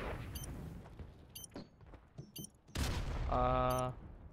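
Gunfire from the video game Modern Warfare Remastered comes as scattered, faint shots, then a louder burst near the end over a background of game sounds, with no talk.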